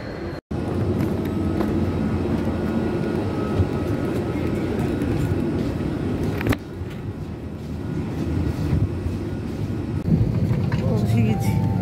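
Steady broadband rumble of an airplane cabin fills the clip, a constant low engine drone with a brief dropout near the start and a click midway.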